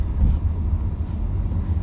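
A car driving through Savannah makes a steady low road rumble, heard from inside the cabin. The engine and road noise stay close and constant with no talking.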